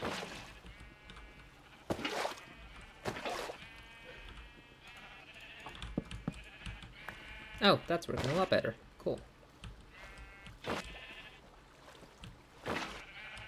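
Sheep bleat repeatedly in a video game, some cries louder and nearer and others fainter, scattered over the stretch while someone talks in between.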